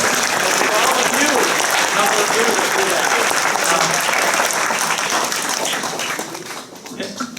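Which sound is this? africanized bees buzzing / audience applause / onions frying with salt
audience applause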